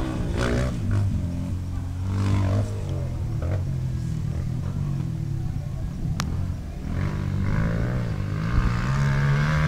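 A motocross motorcycle rides a dirt track in the rain at Alta Floresta, its engine droning steadily with rises and falls as the rider eases off the throttle in curves, fairly close and continuous.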